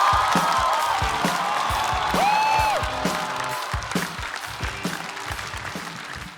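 Studio audience at a Chinese stand-up comedy show breaking into applause and cheers to welcome a newcomer comedian, dense clapping with a whistle-like whoop rising above it, loud at first and slowly easing off.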